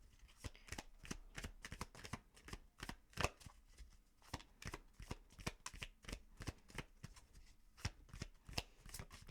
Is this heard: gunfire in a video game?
no